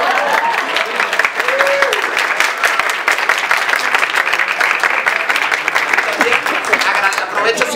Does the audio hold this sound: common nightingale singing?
no